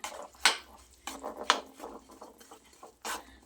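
Grated jaggery is stirred into roasted flour in a pan for sukhadi, with a few sharp, close scrapes and clinks of a spoon against metal between quieter rubbing.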